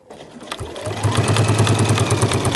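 A sewing machine stitches a seam on a Honey backpack, its motor starting after a brief pause and then running in a steady, close buzzing drone with rapid repeated needle strokes, alone without talk.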